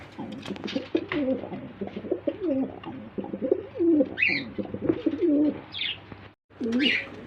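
German Beauty pigeons at a pigeon farm coo in low rolling calls, close and continuous, with a few brighter chirps and faint background voices mixed in.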